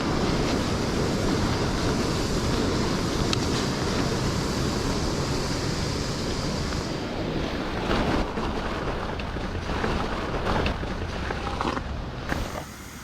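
Steady, loud rushing roar of a waterfall in Glen Tilt in the Cairngorms, continuous broadband noise close by with some wind buffeting and no voices.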